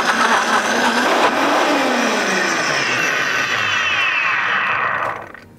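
Kitchen blender whirring loudly at high speed as it churns frozen fruit into a thick ice-cream-like blend, a dense steady roar close by that winds down abruptly at the end.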